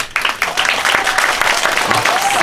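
Applause from an audience at a New Year's Eve folk song concert, a dense steady clatter of many hands clapping throughout with a brief voice briefly over it.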